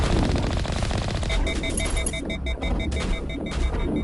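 Rapid automatic gunfire at pirates in the Mass Effect video game rattles continuously for about four seconds, loud and close, with electronic tones beeping over the shots and no talking.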